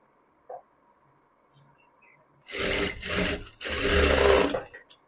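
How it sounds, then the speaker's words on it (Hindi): Sewing machine stitching a straight seam in fabric, a loud close mechanical whirring in two bursts, broken by a brief pause, after a few soft handling sounds. "अब इसमें मैं सीधी सिलाई लगा दूंगी।"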